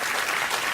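Brief burst of studio audience applause on a late-night talk show, steady and dense with no gaps.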